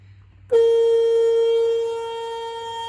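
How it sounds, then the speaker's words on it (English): A Freightliner truck's city horn gives a loud, steady blast that starts abruptly and holds for over two seconds, then eases slightly in volume as it continues. "that is the city horn"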